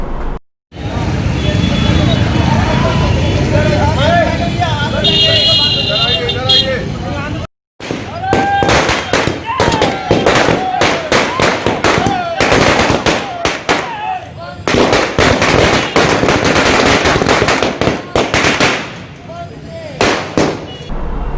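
Firecrackers burst at a clock tower celebration in Gorakhpur: rapid, loud crackling volleys of sharp bangs, pausing briefly then resuming in dense strings, with crowd noise beneath.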